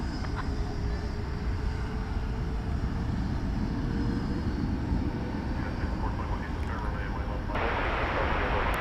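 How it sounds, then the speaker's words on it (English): An Airbus A321neo jet airliner at DFW Airport rumbles steadily at a moderate distance, a broad continuous roar that holds throughout with no change in level. "American Flight 1836 is going to San Antonio, Texas on an Airbus A321 Neo."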